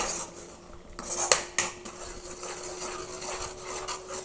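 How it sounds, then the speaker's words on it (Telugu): Prawns with turmeric and salt stirred in a pan, heard as a metal utensil clinking and scraping against the cookware, with a couple of sharper knocks near the middle over a soft, steady background. "కొంచెం పసుపు, ఈ టేస్ట్కి సరిపడా సాల్ట్ వేసి అంతా బాగా మిక్స్ చేసుకోవాలన్నమాట"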